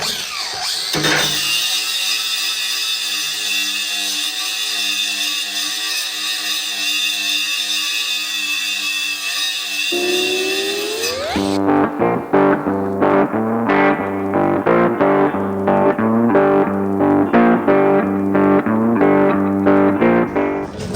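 An angle grinder works metal on an ASV RC50 skid steer, a loud close whine that holds steady, then drops and turns into a choppy grinding pattern as the disc bites the workpiece.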